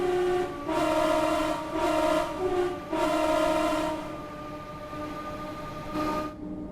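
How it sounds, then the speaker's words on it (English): Train Sim World 3 train sounds with a sound mod: a Sydney train's steady rumbling engine drone with repeated horn-like tonal blasts, loud and continuous throughout, with no talking. "Oh, so good to have this sound mod back. Oh man. Train sounds normal again."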